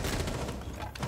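Steady gunfire in Rainbow Six Siege, a dense run of shots at moderate distance, sustained through the whole brief moment with no voices.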